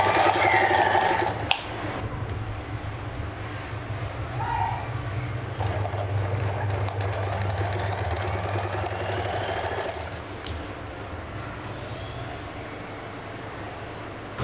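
A sewing machine runs steadily while stitching lines onto a fabric panel for a trouser or salwar poncha design, a continuous motor hum lasting most of the time with brief pauses, heard fairly close.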